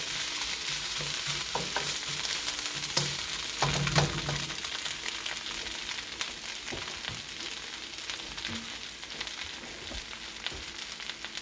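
Chicken and onions frying in a pan with very little oil, a steady close sizzle with occasional scraping stirring strokes and light clatter throughout, no talking.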